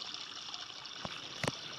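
Water runs faintly into a bath in Roblox as a soft, steady hiss, broken by a couple of brief clicks.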